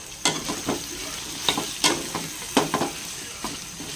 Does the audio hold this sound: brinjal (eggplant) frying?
yes